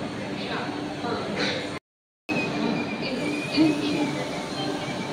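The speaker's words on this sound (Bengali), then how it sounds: "নিউ জলপাইগুড়ি হাওড়া বন্দে ভারত এক্সপ্রেস 1 নম্বর প্ল্যাটফর্ম থেকে ছাড়ছে" The New Jalpaiguri–Howrah Vande Bharat Express rumbles and rolls along platform 1 with a steady mechanical drone and faint squeals, while a brief gap breaks the sound midway.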